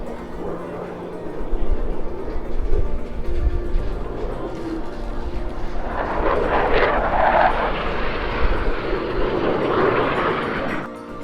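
A KC-135 aircraft at an Air Force base airshow, a sustained engine rumble and whine rising in the second half, fairly loud and steady, with faint voices underneath.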